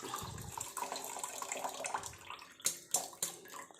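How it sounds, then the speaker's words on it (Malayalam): Cooled boiled water, tea-coloured for a natural hair dye, is poured from a vessel in a steady trickling stream, followed by a few sharper splashes and drips. "വെള്ളം നല്ലപോലെ തണുത്തിട്ടുണ്ട് നമുക്കത് ഒഴിച്ചെടുക്കാം"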